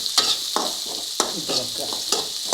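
Chopped large onion frying and being stirred in a pan for tomato thoran, a steady close sizzle broken by repeated scraping strokes of a spoon, about four stirs in quick succession with no talking.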